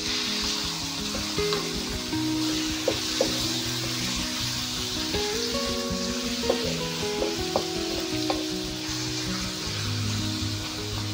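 Chicken pieces sizzle and fry in a pan with onion for a creamy chicken curry, a steady close crackling hiss with occasional scraping and clinks of a utensil stirring.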